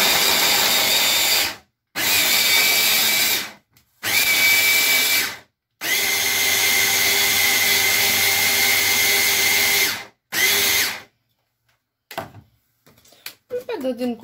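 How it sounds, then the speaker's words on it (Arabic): An electric grinder whirs loudly in several long bursts, each cut off by short pauses, as it grinds sugar for Moroccan sfouf, followed by a few quiet knocks and handling sounds at the end. "غادي نبقاو نحلو ونشوفو واش تطحنا كيف ما حنا بغينا ولا"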